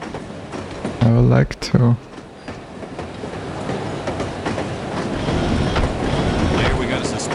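Train running on rails in No One Lives Forever: a steady rumbling roll that swells toward the end, with a brief spoken line and a short tonal beep near the start.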